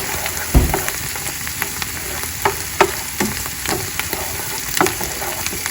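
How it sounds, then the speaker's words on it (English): Onions and mushrooms sauté in butter in a pan, a steady close sizzle punctuated by occasional spoon scrapes and light knocks, with no talking. "So the onions and the mushrooms have been sauteing in the butter"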